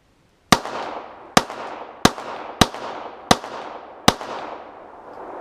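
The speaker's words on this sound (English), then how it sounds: "Now, of course, they had their sidekick, their little brother, the Walther PPK in 380. Again, we'll start with the double action pull." Six sharp pistol shots from a Walther PPK in .380, fired starting with a double-action pull, crack out at an uneven pace of roughly one every half second to second, each loud report trailing into a long ringing echo of an outdoor range.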